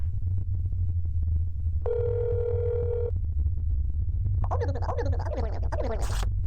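A phone tone in the game That's Not My Neighbor sounds as a steady buzzing tone for about a second, over a low ambient hum, followed by scratchy chirping electronic noises.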